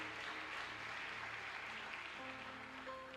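A church congregation claps in continuous, even applause at a worship service, moderately distant and steady for a few seconds, with faint sustained tones beneath.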